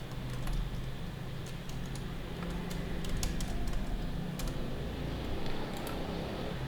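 Quiet, fast tapping of keys on a computer keyboard as Laravel code is written, scattered light clicks over a steady background hum, close and soft.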